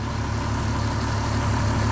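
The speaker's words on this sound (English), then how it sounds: "it's idling great right now" A cheap, worn winter beater car idles loudly, a steady rough drone with a fast regular pulse that holds even throughout, no voices over it.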